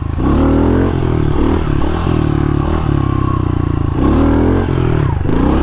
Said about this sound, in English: I love this little bike. It rides good, it handles good, the third gear wheelies are even good.